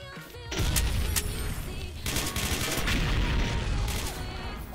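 Gunfire in the shooter game XSHOT: after a brief pause, a sustained barrage of loud, rapid shots and bursts fills the scene, close and dense, with almost no speech.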